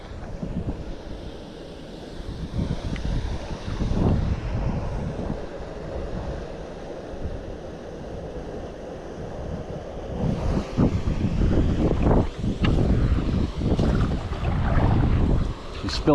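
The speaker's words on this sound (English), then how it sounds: "She's spilling down into the brook down there." Water spills over a man-made spillway into Beaver Brook in Polk County, Wisconsin, a steady rushing wash under heavy wind buffeting on the microphone, growing louder and closer in the second half.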